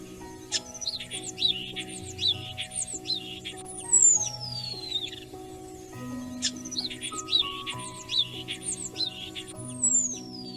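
A starling sings in spring, running through varied whistles, chirps and squeaky trills in two repeating phrases, close and clear over a steady low musical backing.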